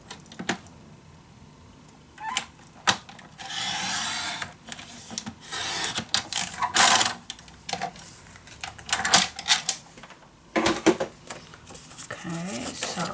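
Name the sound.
cutting paper for a scrapbook mini album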